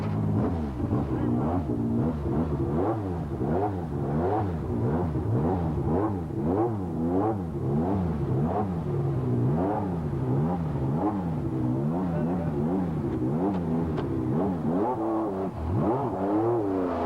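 A trophy truck at a pit stop during the 1994 San Felipe 250 race revs its engine again and again, the pitch swinging up and down in a continuous rhythmic pattern, loud and close under a commentator's talk.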